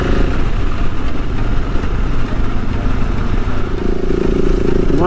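A motorcycle engine running loud and close on an adventure trail in Clarion County, Pennsylvania, a rough steady rumble that holds for the whole stretch.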